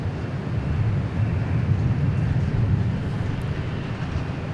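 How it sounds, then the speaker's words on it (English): An Airbus A320neo airliner flies past at Dallas Love Field, a steady, loud, broad engine roar holding evenly throughout with no voices over it. "Just a standard A320 Neo"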